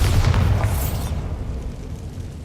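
A Bombarda explosion spell in Hogwarts Legacy goes off as a loud, close boom that rolls into a long, fading rumble and ends in low ambience.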